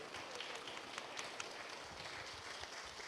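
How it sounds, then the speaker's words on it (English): Applause from the audience at a closing plenary session as a speaker departs, a steady, dense patter of many hands clapping, fairly faint and distant, continuing throughout without a break. "so a big applause for Sophie,"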